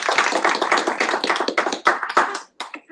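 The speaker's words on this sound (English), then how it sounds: "Please give her a big round of applause." A student government audience claps steadily for a few seconds, the applause thinning into scattered claps at the end.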